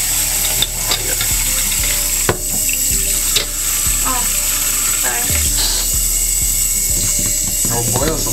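Hot tap water runs steadily into a container at a sink, a continuous splashing rush with a few clanks and knocks of handling, close and fairly loud, while people talk briefly over it.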